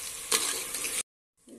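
Onions fry in a pan on the way to golden brown for beef rogan josh, a dense close sizzle with a stirring scrape that cuts out abruptly, falls silent, then briefly resumes.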